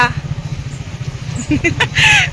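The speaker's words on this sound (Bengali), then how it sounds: "বাবু, বাইকটা ভালো করে চালা।" A motorcycle engine runs with a low, steady pulsing as the bike is ridden, brief and close, with a voice and a short sharp sound near the end.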